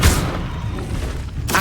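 Casting the Levioso spell in the Hogwarts Legacy video game gives a loud, low booming whoosh with a muffled thump, sustained for about a second and a half and ending in a brighter burst.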